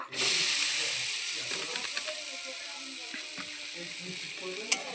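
Khesari (grass pea) lentils hit hot oil in a pan already holding fried chilies, giving a loud, steady sizzle and frying hiss with a few soft stirring scrapes and a sharp crackle near the end.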